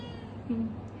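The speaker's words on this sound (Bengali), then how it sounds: "কত বড় বিড়াল জানেন" A large cat gives a single short, fairly close meow over a steady low background hum.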